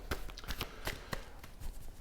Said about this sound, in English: Stop talking and shuffle